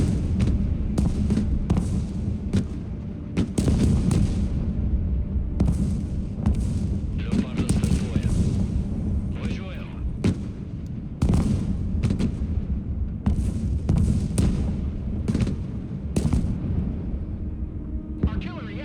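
Artillery fire in the Broken Arrow strategy game, a continuous barrage of booming shots and explosions at irregular intervals over a low rumbling battlefield background, with a person talking throughout.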